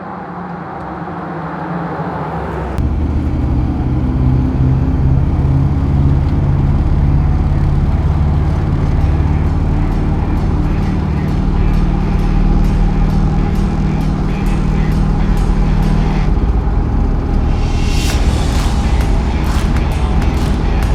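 An early Ford Bronco with a performance handling package pulls away and drives on the road: a deep, loud engine rumble and road roar that swell suddenly after a quiet start, then hold steady with rattles and a brief hiss near the end.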